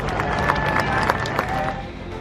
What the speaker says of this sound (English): a round of applause for our honorary captain tonight